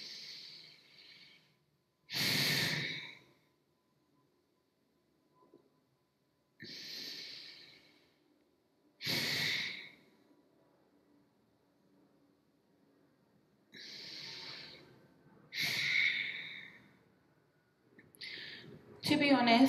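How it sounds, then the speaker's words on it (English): Slow abdominal yoga breathing with Uddiyana Bandha, several separate breath sounds separated by silence: soft airy inhales and longer, stronger hissing exhales through the nose, close to the microphone in a quiet room. "we're engaging in Uddiyana Bandha, so we're really drawing in our stomach. So this is more abdominal based. So we inhale for 4 and then exhale for 8."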